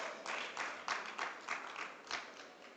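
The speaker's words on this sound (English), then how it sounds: "I would like yourselves to give yourselves again a round of applause" Applause from the audience at a BNI business networking expo, heard as a run of bright clapping bursts through the room that rise and ease in waves, moderately loud, with no one speaking.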